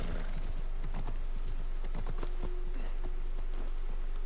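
Horse hooves clip-clop in the video game Assassin's Creed Shadows on PS5, a close, steady run of rhythmic hoofbeats over a constant low game hum with no talk.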